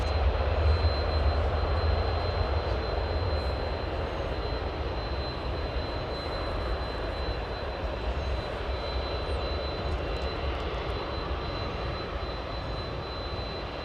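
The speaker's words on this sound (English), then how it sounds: "Gonna be a 767. Taxiing past us any moment now, folks." A Boeing 767 jet airliner taxis past with a loud, steady engine roar and a high whine that holds throughout and fades slightly toward the end.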